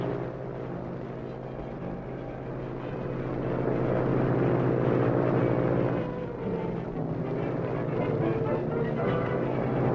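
A propeller airplane performing stunts drones steadily throughout, its engine note swelling louder in the middle as it passes near, with no talk over it.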